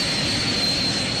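An aircraft engine roars through a takeoff roll, a loud, steady broadband rush with a thin high whine running over it, close and constant with no voices.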